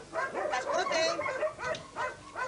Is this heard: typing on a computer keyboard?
no